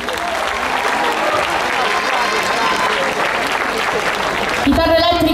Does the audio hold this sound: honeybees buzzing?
no